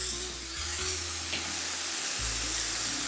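Bacon slices sizzling on a hot griddle for a bacon double cheese smashburger, a steady bright crackle with a low hum underneath, close and alone.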